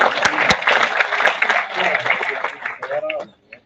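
Audience at a finance conclave clapping for a panelist, a moderate burst of applause that tapers off toward the end, with a voice speaking over it.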